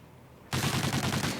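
Rapid automatic rifle fire from a Call of Duty esports match, a loud sustained burst of closely spaced shots kicking in abruptly after a quiet lead-in and rattling on steadily to the end.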